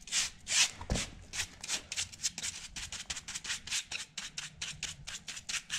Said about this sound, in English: I'm only gonna brush very lightly just to get the gel all over the place.